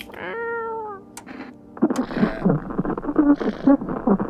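A cat meows in the video game No, I Am Not Human: one clear, drawn-out meow near the start. Then someone talks loudly over other game sounds.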